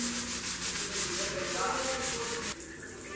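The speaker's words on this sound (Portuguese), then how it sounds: "Tá esfregando e vai saindo." Steady rhythmic scrubbing with a small sponge against an encrusted dirty surface during housecleaning, a close, continuous rubbing texture that eases into a softer tone near the end, with no talking.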